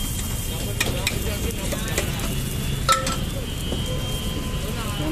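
Kulcha frying in plenty of butter on a street-food griddle in Delhi, a constant close sizzle with light crackle and occasional clinks, heard alone without speech.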